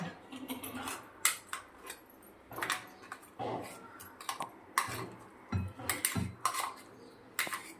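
Ground cucumber chutney scraped and tipped from a grinder jar into a cooking pot that already holds a tempering. Repeated close clinks and scrapes of metal on metal come in irregular bursts, with no talking.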